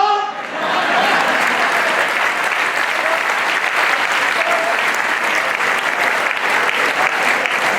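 Loud, sustained clapping from a full audience at a Hindi comedy poetry show, close and dense, starting after a brief moment and continuing unbroken to the end.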